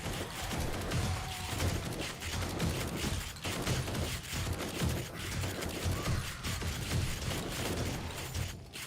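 Shotgun fire and combat noise in 7 Days to Die, a steady loud barrage of overlapping shots and clattering mechanisms running without pause.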